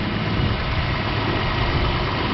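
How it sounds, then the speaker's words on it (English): Toyota Tacoma engine idling steadily with a low, even rumble, close and continuous throughout with no voices. "I got the car running here. This is the Tacoma."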